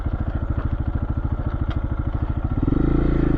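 A Lifan KPX 250 motorcycle ridden in third gear: a steady, throbbing single-engine pulse with a regular fast rhythm, loud and close, rising in pitch and smoothing out as it speeds up near the end.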